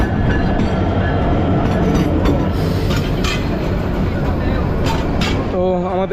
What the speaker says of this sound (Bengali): এই যে দেখেন যে ট্রেনটা ছেড়ে যাচ্ছে, ট্রেনটা হলো আমরা কিশোরগঞ্জ এক্সপ্রেস